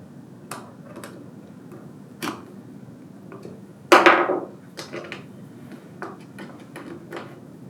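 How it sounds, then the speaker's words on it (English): Metal wrenches, 3/16 and 1/4 inch, tightening screws on a Wicked Edge Gen 3 Pro sharpener shelf conversion kit, giving close scattered clicks and taps with one louder metallic clank. "And you'll tighten all 4 of these screws up."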